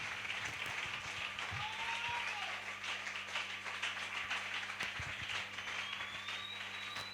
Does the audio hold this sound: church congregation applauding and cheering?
yes